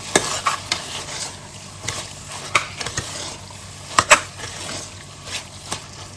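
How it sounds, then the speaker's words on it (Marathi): Beef with onions and tomatoes being stirred and fried over high gas: a steady close sizzle with repeated scraping strokes and clinks of the spoon against the pan, no voices. "आता हे मांस आमी बरे मिक्स करूया कांद्या टोमॅटोन।"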